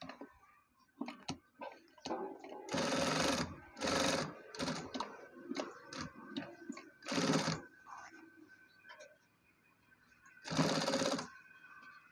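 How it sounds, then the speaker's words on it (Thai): A sewing machine backstitches, running forward and back, across a thick denim jeans hem. Several loud, close bursts of rapid stitching are separated by pauses filled with small clicks and handling noises. "เย็บย้ำเดินหน้าถอยหลัง"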